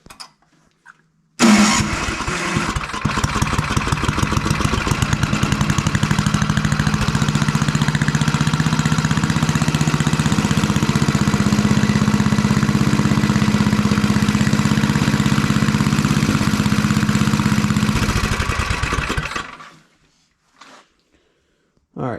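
MTD Snowflite 826 snowblower engine running steadily at idle, a loud continuous near drone with a rough mechanical chatter, holding for about eighteen seconds before cutting out abruptly into silence.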